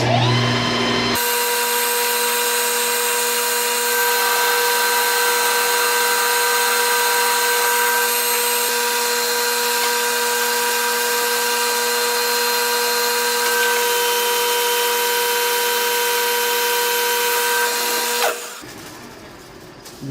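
Steady whine of a machine cutting threads on a billet aluminum gas cap, one continuous loud tonal drone lasting most of the clip that starts abruptly and cuts off near the end.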